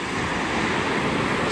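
Sea waves wash at the shore in a steady, broad rushing hiss, mixed with wind over a brief moment.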